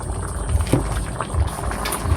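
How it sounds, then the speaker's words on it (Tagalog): A pot of Filipino sautéed mung bean soup, seasoned with salt and pork bouillon cubes, simmers at a boil, with soft irregular bubbling pops and gurgles close by over a low steady hiss. "At hintayin na lang po natin siyang kumulo."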